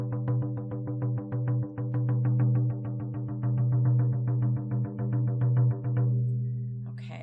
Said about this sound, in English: And that faster beat sounds like this.